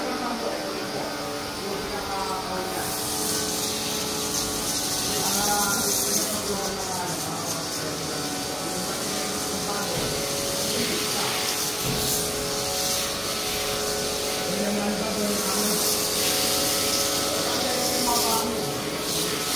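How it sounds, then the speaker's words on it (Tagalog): A foaming machine runs in a continuous loud hissing, spraying rush with a steady mechanical drone beneath, rising in bursts of brighter hiss; indistinct voices can be heard in the background. "testing natin yung foaming machine natin"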